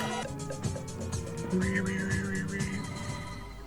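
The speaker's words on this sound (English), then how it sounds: "Oh, little bee!" A bee buzzes in the sci-fi TV series Space:1999: a steady droning hum rises over a busy bed of music and effects midway through, then fades back into the score.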